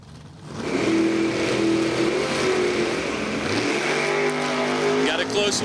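Race cars, including a Camaro, roaring around a speedway during a 150-lap spring race, loud sustained engine drone with rising and falling pitch as cars pass, over a track announcer's commentary.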